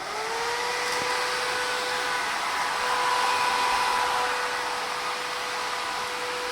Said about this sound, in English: this fan's super loud